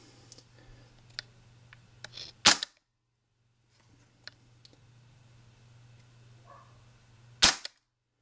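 A KWA KRISS Vector airsoft gun fires two single sharp shots several seconds apart, each a loud close crack over a quiet background hum with faint clicks between.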